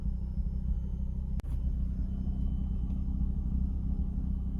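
A warmed-up Volvo V50 T5 engine idles after an exhaust manifold repair, with a steady, even low rumble close by and one brief click partway through.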